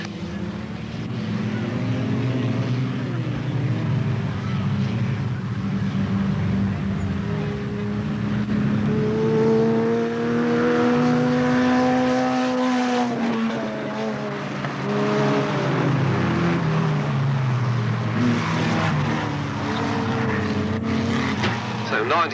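Junior race cars pull away together at the start of an afternoon final at Alwalton Raceway, a loud, steady multi-engine drone with rising and falling revs under continuous commentary.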